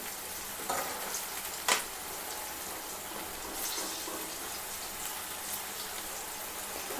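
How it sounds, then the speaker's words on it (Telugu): Coated sweet corn frying over a medium flame, a steady soft sizzle with occasional light scrapes and one sharp clink as it is gently turned, no voices. "మీడియం ఫ్లేమ్లో పెట్టుకొని ఇలా తిప్పుతూ ఫ్రై చేసుకోండి"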